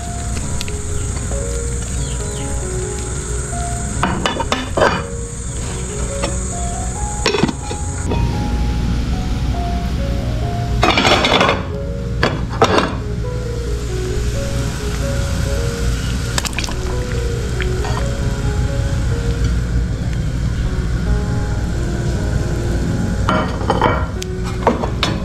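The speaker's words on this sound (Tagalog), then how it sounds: "Nagpapakulo na rin tayo ng tubig sabay buhos ng ating mga ricados pampalasa" A pot of water set boiling for fish soup bubbles and rumbles steadily while seasonings are poured in, with intermittent clinks of utensils and cookware scattered throughout and no speech.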